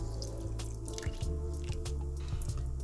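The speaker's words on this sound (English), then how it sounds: "You have milk. Go ahead and pour that in slow and keep stirring." Milk pours slowly into a pot of creamy fish chowder while being stirred, a soft liquid trickle with wet dripping and squishing sounds close by over a low background hum.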